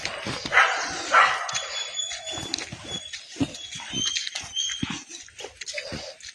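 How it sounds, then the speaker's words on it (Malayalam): A dog near a relative's house barks repeatedly in sharp, loud bursts, mixed with yips and squeals, against a busy outdoor background with birdsong. "അവിടുന്ന് ഇപ്പോൾ നായ നല്ല കുറയ്ക്കലോ"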